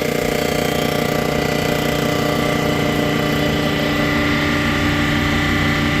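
A Toyota 2JZ engine on a budget rebuild runs steadily at about 2,000 rpm, giving a loud continuous drone and hum close by, with no voices over it.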